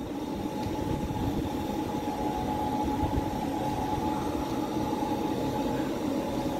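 A train rolls steadily past at Bickley with a loud, continuous rumble of wheels and carriages, holding an even level throughout with no voices.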